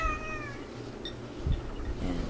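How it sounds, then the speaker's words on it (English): A pet cat meows a few times in a quiet room, the calls short and fairly close against a faint steady background hum, with no one speaking. "And there's the kitty cat too."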